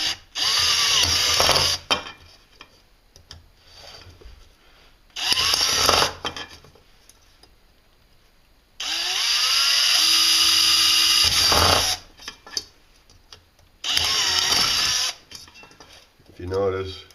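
A power drill bores holes in a metal can for a wood gas stove, in four separate loud whirring bursts of a few seconds each, with quiet handling noises in the pauses between.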